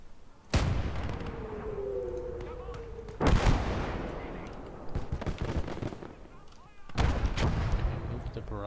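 An artillery barrage in the video game Call to Arms: Gates of Hell, three heavy booming impacts several seconds apart with rumbling decay, loud and near, with speech in between.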